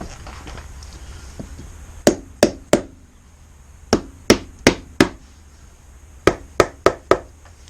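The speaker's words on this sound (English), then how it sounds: "It's going to need a bit more of a whack than that. Just going to get a proper whacking stick." A 1987 Honda CR250 motorcycle engine part struck with a stick during teardown: sharp hard knocks in short bursts of three or four, loud and close, separated by pauses.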